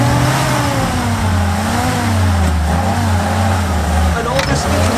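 A Jeep stuck off-road revs hard and holds a loud, steady engine roar with wavering pitch as it strains, while a person talks over it.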